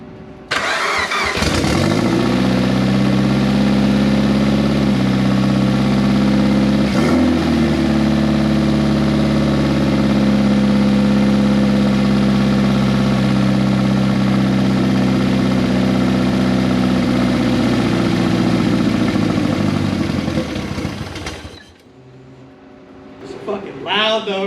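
A car engine started after nearly ten years of sitting, fitted with a straight header, catches and runs loud and close at a rough steady idle for about twenty seconds before cutting off, with voices under it.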